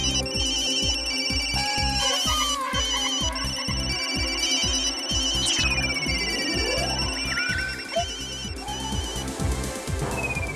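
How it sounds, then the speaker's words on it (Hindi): A phone rings during an outgoing call, its electronic ringtone repeating in a steady rhythmic pattern while swooping whistle-like tones and other sound effects play over it, with no voices. "अभी विकी को फोन लगाती हूँ।"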